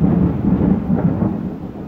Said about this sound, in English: Y'all hear that storm out there?